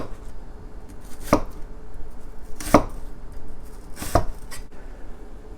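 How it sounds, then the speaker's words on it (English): A knife thinly slicing half an onion on a cutting board, three distinct sharp chops spaced about a second and a half apart, close and clear over a quiet room. "Use a half onion. Now thinly slice."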